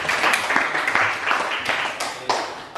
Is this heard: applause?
yes